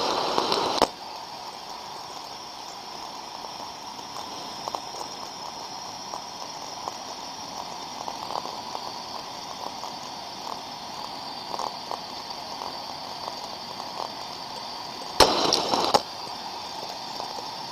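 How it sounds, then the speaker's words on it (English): Ultrasound recording of a thermodynamic disc steam trap: a steady hiss and faint crackle throughout, broken by two short, louder bursts near the start and end as the trap cycles open and shut. "this was a recording, first of all, of a thermodynamic disk trap"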